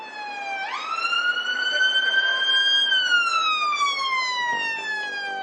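A loud wailing UK ambulance siren with rising and falling pitch sweeps steadily, close by, with faint traffic rumble underneath.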